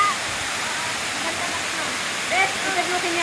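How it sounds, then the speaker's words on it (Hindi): A large waterfall at Yellow Dragon Stream roars in a steady, dense rush, loud and close throughout, with faint voices of tourists and a few distant calls over the water. "बहुत बड़ी आबशार है यहाँ पर।"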